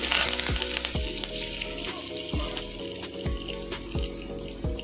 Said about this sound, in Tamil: அதில் நல்லா உளுந்து சவக்க வறுக்கட்டும்.